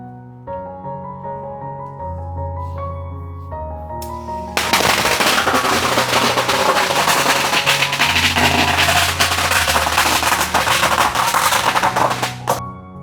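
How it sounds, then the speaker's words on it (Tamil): Firecrackers set off as an offering at a Buddhist temple in Pattaya crackle in a dense, continuous burst of rapid pops, loud and close, after a few seconds of tonal music and chanting. "பட்டாசை கொளுத்தி இதுக்குள்ளே போடுறாங்க."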